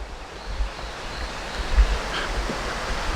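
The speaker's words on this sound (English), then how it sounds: "The river is not too awfully loud." A river flows near a wilderness campsite in the Citico Creek Wilderness, giving a steady, moderate rush of water with light wind noise and no talk.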